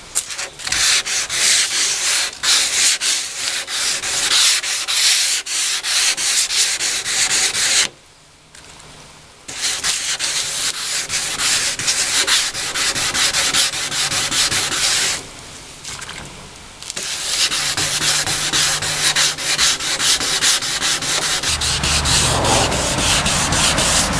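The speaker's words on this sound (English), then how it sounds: "So done with the wet sanding." Sandpaper rubs back and forth across a dented car fender during wet sanding after bodywork filler, producing loud, continuous scratchy strokes interrupted by two short pauses, with no voices.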